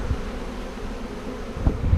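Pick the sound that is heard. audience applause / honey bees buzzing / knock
honey bees buzzing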